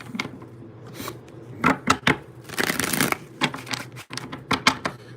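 Tarot cards are shuffled up close in a few quick riffling bursts, with light tapping and shuffling noises between them.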